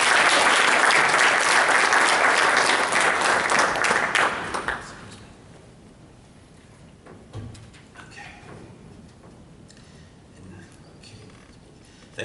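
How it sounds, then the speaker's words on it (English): Audience applause at an arts awards event, a loud full burst of many hands clapping that fades quickly after a few seconds, leaving a quiet room with scattered faint claps and small noises. "Round of applause for Jason Fabon"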